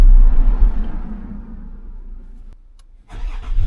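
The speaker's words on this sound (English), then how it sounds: "Now I gotta start the engine." A Land Rover Discovery 4 engine cranks and catches, its loud low rumble settling to a quieter idle, then a sharp click and a second rise in engine noise near the end.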